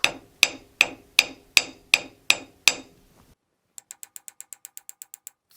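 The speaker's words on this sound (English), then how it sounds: "you can actually tap out this scratch using this piece of sandpaper." Sharp taps of sandpaper against a scratched firearm surface, seven hard evenly spaced knocks, then a quicker run of lighter, ringing clicks, close and clear with no voices.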